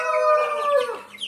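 Backyard chickens and chicks, including young free-range caipira birds, give a brief close burst of clucking and high peeping calls, with no talking over it.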